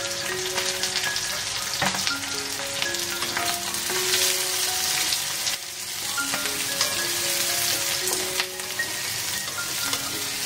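Mustard seeds, cumin and curry leaves sizzling in hot oil in a large pan for cauliflower-and-peas bhaji, a steady close frying hiss with popping crackles and light stirring throughout, while music plays along.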